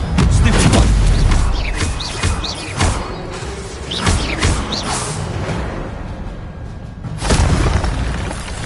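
Incendio fire spells cast in Hogwarts Legacy: several loud whooshing bursts and deep booms erupt in quick succession, close and forceful, with crackling fiery noise and a brief rushing swell near the end.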